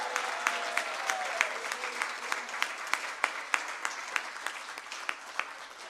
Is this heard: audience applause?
yes